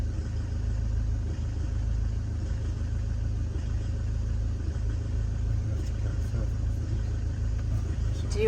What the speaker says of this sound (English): There's a lorry reversing up.